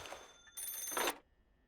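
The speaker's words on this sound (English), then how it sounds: "It was just the fax machine. I'm still not quite used to it. I didn't know they actually, like, caused the phone to ring." A telephone ringing from a fax machine in the video game PARANORMASIGHT: The Seven Mysteries of Honjo, a short bright electronic ring burst that rises and then cuts off, alone and close.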